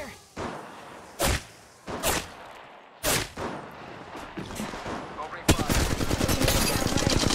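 Gunfire in Apex Legends Mobile: a few separated sharp shots early, then a sustained, rapid automatic burst near the end, loud and close, with brief in-game voice lines.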